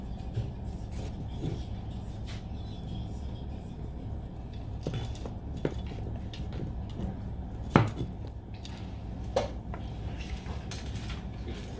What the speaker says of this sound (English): And I have 6 potatoes that I'm cutting up